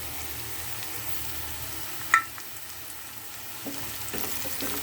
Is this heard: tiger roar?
no